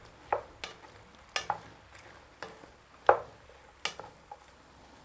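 Meat, onions and peppers frying in a Dutch oven for rustic chili con carne, stirred with a series of sharp scrapes and clanks over a quiet sizzle, roughly one scrape per second.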